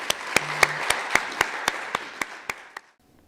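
Applause from a small audience at a public speaking competition final, a dozen or so evenly spaced, crisp claps that gradually fade and stop abruptly, sounding like a few participants clapping in rough unison.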